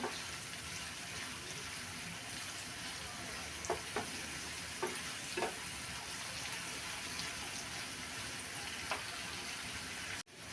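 Vegetables for chili chicken stir-fried in a pan give a steady, moderate sizzle, with a few soft stirring knocks scattered through it and no voices.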